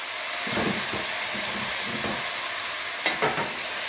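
Water hits a hot pot of cabbage and shrimp, giving a loud, steady sizzle with bursts of stirring and scraping against the pot.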